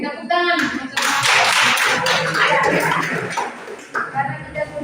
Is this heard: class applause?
yes